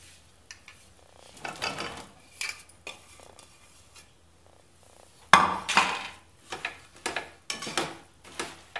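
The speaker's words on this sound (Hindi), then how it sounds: "हरे मिर्चे को मसाले में अच्छे से मिक्स करके अब इसमें हम गाजर और गोभी डालते हैं।" A spoon stirs carrots and cauliflower into a spiced pickle mix with green chillies, making a run of clattering scrapes and knocks against a metal pan, loud and close, in irregular bursts with quiet gaps between.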